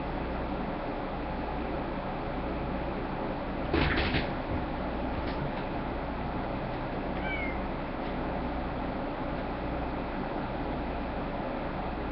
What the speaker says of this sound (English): See, my cat's really upset.